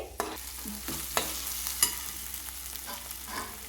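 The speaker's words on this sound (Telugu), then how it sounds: "ఇప్పుడు అల్లం వెల్లుల్లి పేస్ట్ వేసుకోవాలి బాగా వేగనివ్వాలండి" Ginger-garlic paste fries with onions in a pan for a capsicum curry, with a soft steady sizzle and occasional spatula scrapes and taps, quiet and close, without voices.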